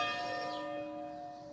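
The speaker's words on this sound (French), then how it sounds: "c'est toujours les cloches qui nous accueillent" Church bells ring out in a French village, a steady resonant tone with lingering overtones that slowly fades, heard alone without voices.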